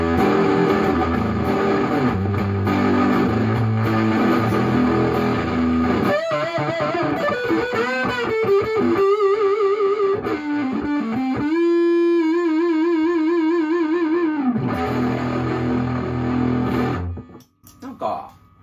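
Electric guitar played through a vintage Fuzz Face pedal fitted with a replaced electrolytic capacitor, giving a loud, clear fuzz-distorted tone with sustained chords and held single notes that stops abruptly near the end.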